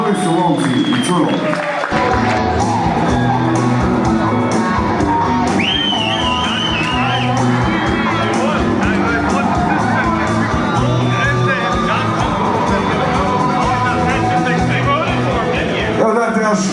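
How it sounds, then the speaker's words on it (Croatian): Audience at an original-music festival semifinal in Croatia clapping, cheering and shouting for a metal band, a dense continuous roar with loud tonal sound running underneath. "Evo dajte još veliki aplauz, molim vas"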